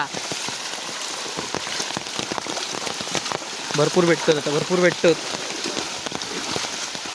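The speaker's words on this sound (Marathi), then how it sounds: "पाऊस पण वाढलो आहे" Continuous first-monsoon rain patters and hisses on nearby surfaces at night by a stream, while someone speaks briefly over it partway through.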